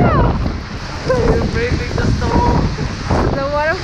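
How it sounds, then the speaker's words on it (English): Waterfall in Iceland in December, a steady roaring rush of falling water heard up close with wind buffeting the microphone, continuous and loud throughout. "We're gonna go behind the waterfall."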